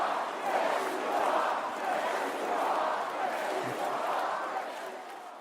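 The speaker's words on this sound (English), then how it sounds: "the crowd started spontaneously shouting" A convention crowd at the Republican National Convention breaks into spontaneous shouting, a loud, dense mass of voices swelling in waves for several seconds before easing off.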